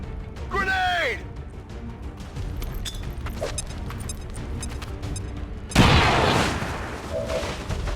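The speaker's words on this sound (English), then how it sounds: "Grenade!" A grenade goes off in XCOM 2: War of the Chosen, a sudden loud crashing blast partway through, following a stretch of game ambience and a brief whooshing sweep.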